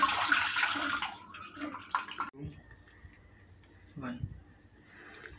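Homemade butter is washed with clean water in a kadhai, with splashing and sloshing water heard up close alongside someone talking.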